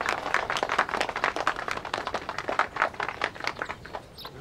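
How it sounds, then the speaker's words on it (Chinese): A group clapping, a quick run of sharp, distinct hand claps close by, irregular but dense, tapering toward the end. "大家鼓掌"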